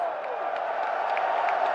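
A packed arena crowd at Evo 2024 roars steadily for the fighting-game player Artorias, a sustained wash of cheering and whoops without a break.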